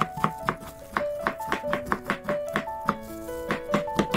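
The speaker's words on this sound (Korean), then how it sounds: "오이지를 썰고" Knife slicing Korean pickled cucumbers (oiji) on a board, a steady series of about a dozen crisp, evenly spaced cuts, close and fairly loud, with no talking.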